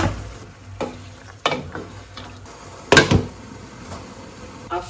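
Boiled tamarind broth is poured onto chicken in a hot pan for sinampalukang manok. A low sizzle runs throughout, broken by several sharp clanks and scrapes of a utensil stirring against the pan, the loudest near the middle.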